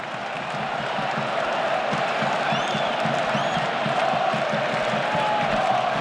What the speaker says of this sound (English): a ripple of applause each time that Pedri ticks along another pass